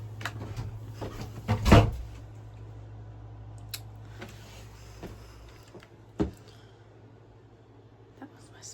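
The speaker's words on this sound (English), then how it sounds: "That was my sister closing her door" A bedroom door in a house shuts with one sharp, loud thud early on, followed by a smaller knock a few seconds later against a quiet indoor hum.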